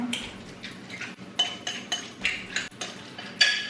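Pressed tofu mashed in a bowl with a utensil, a series of irregular scraping clinks and soft squishes, close and moderately quiet, with no voices.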